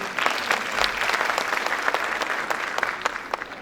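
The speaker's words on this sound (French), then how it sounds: "sous vos applaudissements, Salwa Zine" An audience at a conference talk on resilience applauds steadily as the speaker is introduced, a dense, even wash of clapping from a large seated crowd.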